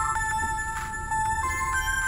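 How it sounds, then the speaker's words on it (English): An old cell phone rings in the horror game The Charnel House Trilogy, a steady electronic ringtone with bright repeating tones and short pulsing bursts, continuous and fairly loud over a low background hum. "This is my old cell phone. The one I got rid of a few weeks ago. And it's ringing."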